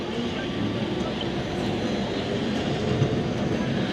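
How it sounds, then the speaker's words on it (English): A Lisbon tram rolls by on a city street as a steady broadband rumble that holds fairly level throughout, with faint street noise around it. "Just quick shot at the tram again."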